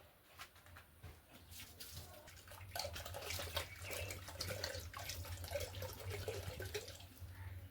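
Running water splashes and trickles steadily while a plastic bottle is rinsed clean at a home sink, a continuous wash with faint knocks and handling noises throughout, with no one speaking.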